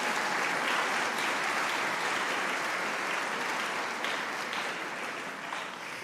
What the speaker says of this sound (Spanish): un aplauso para estos niños